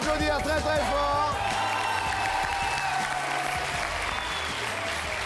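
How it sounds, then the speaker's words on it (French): Studio audience applauding on a French TV game show, dense loud clapping with whoops and cheers over a musical sting and voices, continuing steadily to the end. "L'ami Glenn qu'on peut applaudir très très fort."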